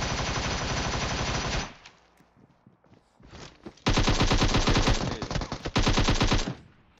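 AKM rifle gunfire in PUBG Mobile: two long, loud, rapid automatic bursts with a brief lull of scattered quieter shots between them.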